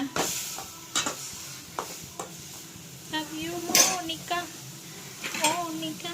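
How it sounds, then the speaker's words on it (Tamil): Tomatoes being sautéed in a pan, intermittent stirring scrapes and pan clinks over a low sizzle, close by, with voices talking over it. "நல்லா வதக்குங்க, வதக்கிட்டே இருங்க"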